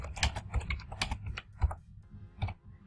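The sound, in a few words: typing on a computer keyboard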